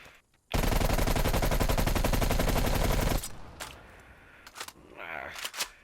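A QBZ assault rifle in Call of Duty Black Ops Cold War fires one loud sustained automatic burst of about two and a half seconds, followed by quieter clicks and game effects.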